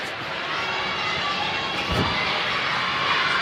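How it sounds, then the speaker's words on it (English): Indoor crowd noise at a Class 3A high school basketball game, Lander against Mountain View, rising to a steady, dense roar of voices and cheers ahead of free throws, with no break. "Crowd starting to make some noise as Friday will go to the line"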